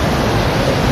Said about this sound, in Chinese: 强劲的水流不断冲击